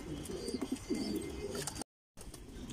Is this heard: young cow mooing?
no